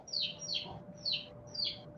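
Small birds chirp outdoors in the background, a quick series of four or five high, downward tweets in steady rhythm, faint and distant over a low hum, with no voices.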